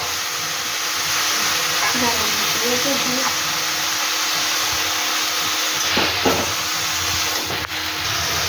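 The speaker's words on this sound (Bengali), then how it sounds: "তাহলে ওইটা এখন ভাজা ভাজা হবে, সাতলানো হবে" Banana flower with chickpeas sizzling and frying in a pan, a steady broadband hiss running throughout with a couple of brief clatters near the end.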